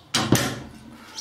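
A nearby door swings shut with a sharp thud and brief rattle, followed by a short, faint tail of room sound.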